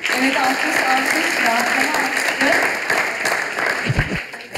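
Audience applause in a comedy stage show, a steady dense wash of clapping from a large crowd, loud and continuous, with music or voices faintly underneath.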